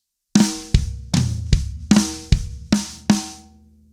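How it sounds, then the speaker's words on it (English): Acoustic drum kit fill of flammed hits, kicks, toms and snare strokes, about eight loud, close strikes in an even, moderate rhythm, each ringing briefly before the next, played alone. "So it starts with a flam, kick,"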